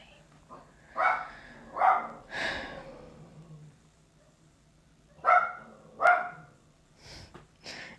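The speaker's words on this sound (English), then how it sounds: "My dog is annoying." A pet dog barks indoors in short bursts, two pairs of sharp barks separated by a pause, with breathy snorts in between and a few softer trailing sounds, close and clear without talk.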